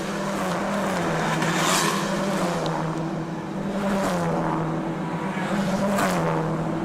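A racing car powers out of the final turn to the finish at the Bangsaen Grand Prix street circuit in Thailand, its engine a loud, steady, close drone with rising and falling pitch and no talk.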